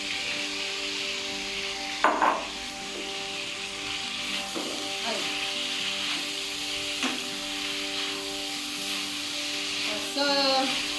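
Cabbage stir-frying in a pan for Filipino bihon guisado, a steady close hiss of frying broken by a few scraping stirs and clatters.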